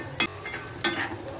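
Onion, ginger and green chili fry in a pan while being stirred, giving a low steady sizzle punctuated by two sharp scraping strokes of a spoon against the pan, close by and without voices.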